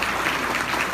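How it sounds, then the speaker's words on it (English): A live audience at a Mid-East prophecy talk applauds President Trump, giving a short, steady burst of dense clapping that fills the whole second at even loudness with no voices over it. "Could we get a round of applause on President Trump,"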